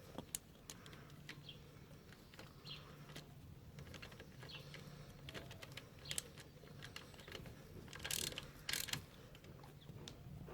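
A ratchet clicks in quick bursts while the oil drain plug on a dirt bike is snugged down, the ticking close and light against faint workshop noise.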